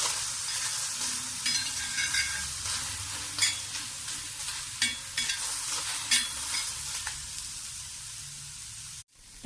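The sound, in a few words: tomatoes roasting in pan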